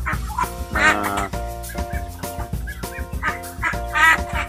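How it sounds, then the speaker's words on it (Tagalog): Noisy month-old Peking ducks on a livestock farm, a flock quacking and honking in repeated overlapping bursts, fairly loud and close, with strong harmonic calls. "pakainin natin itong mga maingay na peking duck"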